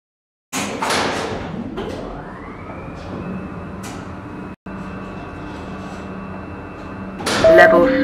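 At Skytec headquarters, a Nova lift's doors slide shut: an abrupt start, a rising motor tone settling into a steady drone with light ticks, a brief gap, then a louder bang and rattle at the close.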